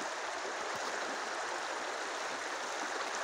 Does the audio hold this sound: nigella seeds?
no